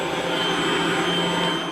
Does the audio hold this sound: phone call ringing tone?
no